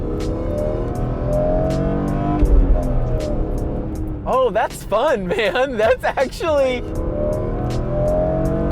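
A stanced BMW E46 M3 engine drones steadily and then revs in several sharp rising and falling bursts while driving, heard from inside the car with people talking over it.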